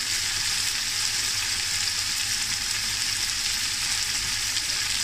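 Steady sizzling and frying as snakehead fish curry with curry leaves is stirred in a frying pan, a continuous bright hiss with no talking.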